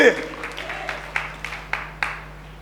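Congregation at a Sunday church service clapping hands, a handful of sharp, separate claps spaced irregularly over a low hum, moderately close and not very loud.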